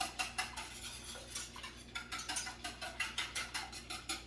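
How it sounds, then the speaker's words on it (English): A whisk beats oil into a vegan cutlet batter in a bowl with rapid, rhythmic clicking strokes, close up and fairly quiet, keeping an even beat with no talking. "You really want to whisk it well"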